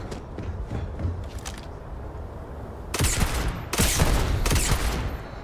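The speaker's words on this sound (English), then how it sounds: "Let's see what this weapon does to them." Weapon fire in the Starfield video game, a rapid burst of shots cutting in loud and close after a quieter stretch of ambient battle noise, repeating in three heavy bursts.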